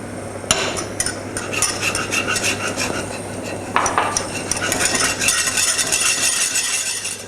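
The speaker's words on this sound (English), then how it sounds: "So we need to add this and keep whisking." A butter and flour roux is whisked in a pan for lasagne, with steady scraping and clinking of the whisk against the metal and a low bubbling underneath, continuous and close.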